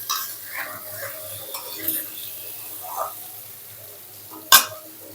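Chicken fries in a pan as it is stirred, with soft scraping and faint sizzle in short bursts and one sharp metallic clink near the end.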